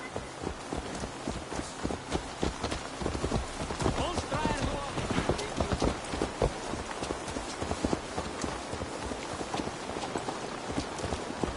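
Horse hooves clip-clop steadily in Assassin's Creed Valhalla, a video game, a continuous rhythmic trot with dense clatter and some ambient noise throughout.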